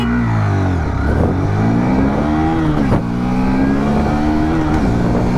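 A 2024 Hero Xtreme 160R 4V or Bajaj Pulsar N160 motorcycle engine revs hard during a 0 to 60 run, rising in pitch through several gear changes, loud and close with no talk.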